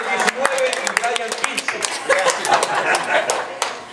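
Audience applause for a birthday father and son at a live singing show, dense clapping sustained throughout with scattered chuckles and voices in the crowd.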